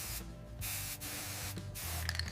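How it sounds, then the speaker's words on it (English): Several short bursts of aerosol cooking oil spray into an air fryer, hissing close by with brief gaps between them, then a faint rattle near the end. "Place an air fryer and spray generously with oil."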